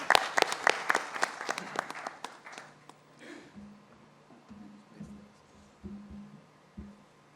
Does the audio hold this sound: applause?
yes